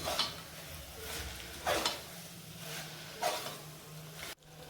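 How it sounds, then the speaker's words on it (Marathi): Vegetables with fenugreek leaves and coriander being stirred in oil in a pan for a Nilanga-style rice dish: three or four distinct scraping strokes spaced a second or so apart over a low steady background. "मेथी आणि कोथिंबीर टाकली आहे मी आणि तेल सुटेपर्यंत चांगलं मिक्स करून घ्यायचं आहे व्यवस्थित"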